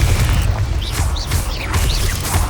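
Confringo blasting spell explosions in Hogwarts Legacy, loud dense booming bursts amid continuous crackling magical effects, repeating several times in quick succession.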